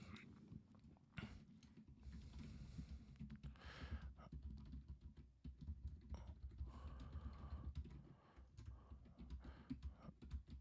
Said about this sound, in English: I am just typing a message to our team.